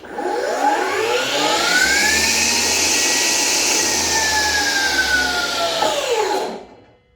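A Metabo 36V cordless table saw motor spins up to a loud, steady high whine with a rising tone, holds it, then brakes quickly to a stop near the end, with no voices.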